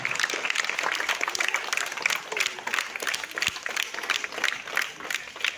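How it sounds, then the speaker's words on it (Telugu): Audience applause fills the room at a local student felicitation event in Nagarkurnool, dense and steady clapping continuing throughout with crowd noise and some voices underneath. "Everyone, with a huge round of applause."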